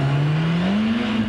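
A Lotus with a 2.2-litre, 264-horsepower engine at the Brighton Speed Trials, a loud, steady near engine drone rising slightly in pitch as it pulls, with no talk over it.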